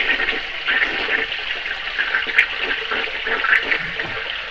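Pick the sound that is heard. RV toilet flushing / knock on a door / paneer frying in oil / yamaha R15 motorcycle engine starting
RV toilet flushing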